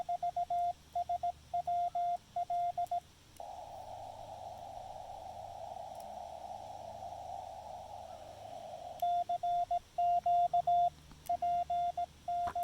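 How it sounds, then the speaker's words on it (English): Ham radio QRP signal on a park activation, a steady carrier tone that breaks into rapid choppy bursts, holds continuous for several seconds, then returns to fragmented keying as unstable propagation makes it fade and drop. "Now you heard how his or her signal went like shoot straight down."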